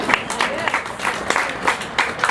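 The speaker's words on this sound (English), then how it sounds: "that deserves an applause" Audience at a political talk event breaks into scattered applause, uneven clapping with some bursts, the crowd's sounds filling a couple of seconds at moderate loudness.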